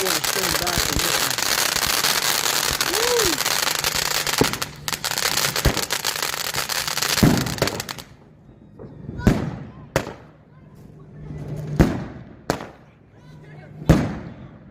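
A Sound Hashira hybrid firework fountain with salutes: a loud, continuous roaring and crackling spray for about eight seconds, then five sharp separate salute bangs spaced roughly a second apart, with voices faintly present.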